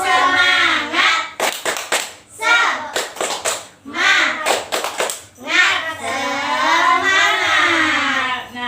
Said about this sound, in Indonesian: Kita tepuk semangat ya semuanya.